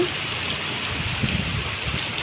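Steady, close rainfall with a continuous hiss and patter of drops hitting surfaces, and no other sounds.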